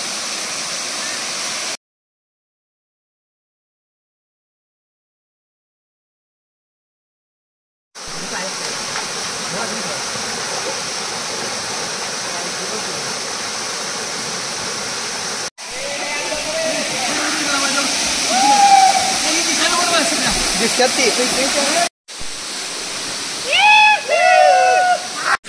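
Tilari, a perennial waterfall near Kolhapur, pours in a steady, loud, broadband roar of falling water. It is broken by abrupt cuts and one stretch of silence, with a few faint high tones near the end.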